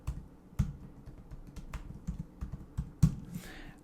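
Someone types on a computer keyboard, a string of close, irregular key clicks and taps of moderate loudness with a sharper press near the end, alone without voices.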